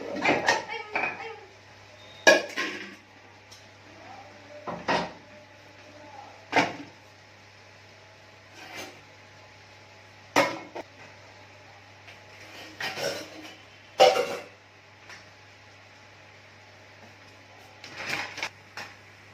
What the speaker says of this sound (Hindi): हम साथ साथ लगाते हैं बर्तन, हमारे सुबह के बर्तन पड़े हुए हैं